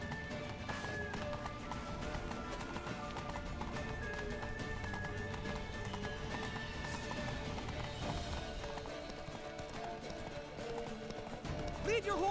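A horse gallops in The Witcher 3: Wild Hunt, with steady rhythmic hoofbeats and an occasional whinny under game music and continuous speech.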